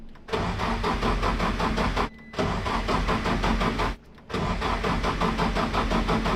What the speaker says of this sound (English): we're doing this so the oil pressure is created from the starter motor and not the actual firing of the engine.